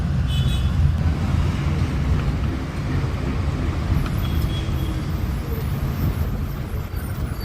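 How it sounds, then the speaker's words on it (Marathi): A state transport bus pulls out of a Pune bus stand bound for Mahad, its engine rumbling low and steady close by, with a brief hiss of air brakes amid the surrounding traffic noise. "आणि आता गाडी निघाली आहे"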